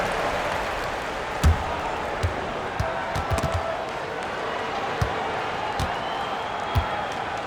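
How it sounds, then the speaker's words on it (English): Arena crowd noise during a basketball timeout in an Orlando Magic game, a steady roar of applause and cheering with occasional sharp ball bounces or thuds over the crowd wash. "big round of applause for the 407"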